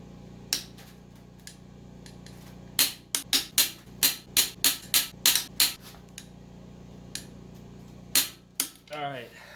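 A torque wrench tightens cylinder head nuts to 85 foot-pounds on a VQ35 engine. Sharp, near clicks come as a quick run of about a dozen, then a pause and a few more.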